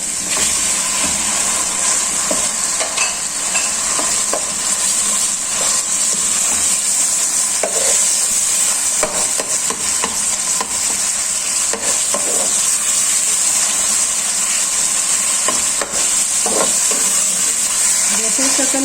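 Minced meat fries in oil with garlic-ginger paste for a kachori filling, giving a continuous loud sizzle with scattered stirring clinks and scrapes throughout.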